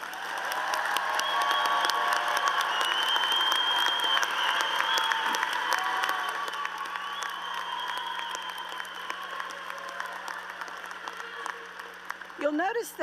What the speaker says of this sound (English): Let's give these scholars one more round of applause.